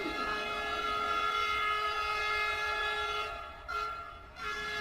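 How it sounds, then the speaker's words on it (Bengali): A train sound effect in a Bengali audiobook: a steady, sustained horn-like tone rides over a low rolling rumble, then breaks up and dips twice near the end. "ট্রেন এলো বেলা 9টায়"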